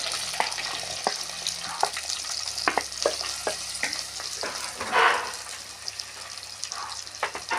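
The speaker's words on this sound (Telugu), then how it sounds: "తర్వాత ఉల్లిపాయలు వేస్తున్నానండి." Onions frying in a pan for a Telugu-style brinjal (vankaya) curry, a steady close sizzle with repeated sharp clinks of a spoon stirring against the pan and a brief louder hiss near the end.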